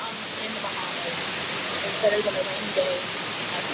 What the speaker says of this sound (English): we are in the Bahamas in a rainstorm in a cabana